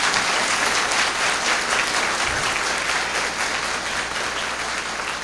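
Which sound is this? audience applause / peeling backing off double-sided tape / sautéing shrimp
audience applause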